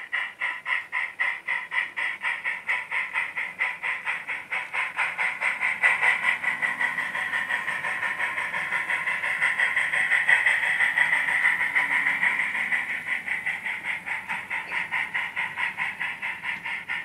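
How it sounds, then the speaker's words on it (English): A train backing up to push a boxcar into a dock, giving a long, steady, rapid rhythmic clatter that swells slightly in the middle and continues evenly throughout. "Now we can back up put the boxcar in dock 5."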